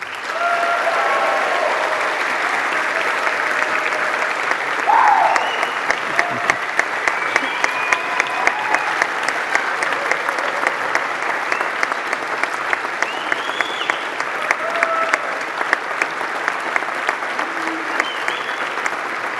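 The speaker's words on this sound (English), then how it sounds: "Give a huge round of applause, please." A large graduation ceremony crowd gives sustained, dense applause, a steady roar of many hands clapping with occasional cheers and whistles rising over it for nearly twenty seconds.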